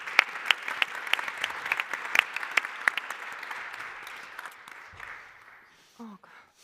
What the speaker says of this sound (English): I would like to applaud to our panelists